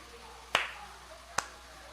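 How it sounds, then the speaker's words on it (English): Two sharp, single claps ring out in a video game, each a crisp isolated snap about a second apart against quiet background hum. "A single clap."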